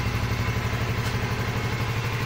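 A repaired Honda CBR 125R motorcycle engine runs at a steady idle, a close, even, throbbing putter throughout.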